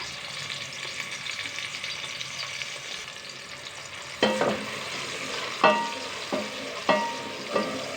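Hot cooking oil sizzles in a pan for chana masala, a steady frying hiss with several sharp spoon scrapes and knocks against the pan in the second half, close and clear with no talking.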